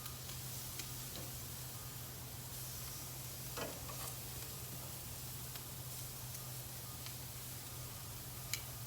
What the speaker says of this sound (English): get some of that sizzle